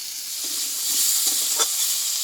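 Potatoes and cauliflower sizzling with spice paste in a hot pan, a steady close hiss with faint stirring scrapes and no voices.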